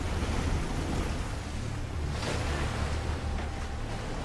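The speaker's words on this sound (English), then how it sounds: "Never underestimate the power of white moving water." Rushing white-water river rapids from a film scene of a blindfolded river crossing by boat, a steady broadband roar with low rumble, continuous and loud with no voices.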